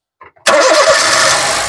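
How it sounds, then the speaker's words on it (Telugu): A 2013 Honda City S manual petrol car starts on a single crank: a brief faint whir of the starter, then the engine catches loudly and settles into a steady close idle. "సింగిల్ సెల్ఫ్ లో కార్ స్టార్ట్ అవుతుంది"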